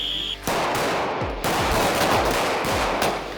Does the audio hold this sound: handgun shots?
yes